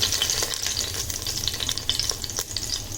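Whole cloves and small pieces of cinnamon sizzling steadily in hot coconut oil for a Malabar kappa biriyani, a close, continuous bright crackle with faint stirring scrapes and no voices.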